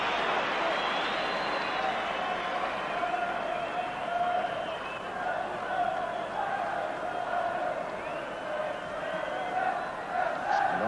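A huge football crowd roars steadily through the closing stage of the 1988–89 Liverpool v Everton derby ending 1-1, a continuous dense wash of voices with chants and shouts, no clear individual talk.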